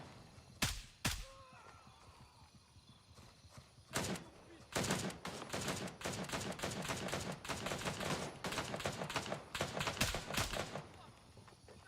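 Repeated bursts of AK rifle fire in the video game Gray Zone Warfare, loud single shots early on, then dense rapid volleys and clustered shots crackling through most of the clip.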